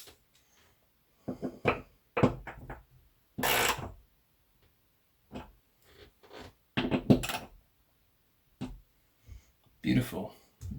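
Intermittent metallic clicks, clanks and ratcheting knocks come from tightening a toilet paper holder built from a Honda camshaft, arriving in short irregular bursts close up with silent gaps between them.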